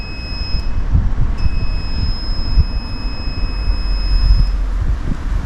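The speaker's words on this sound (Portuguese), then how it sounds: "Não, é o alarme." Alarm in an old baron's mansion, a thin steady high-pitched tone that cuts out briefly and resumes over windy outdoor rumble and handling noise.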